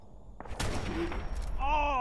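Gunfire from a weapon in Fallout 4: a sharp shot followed by a dense, rattling burst of rapid fire with ringing tails, then a lingering metallic reverberant tone as it fades.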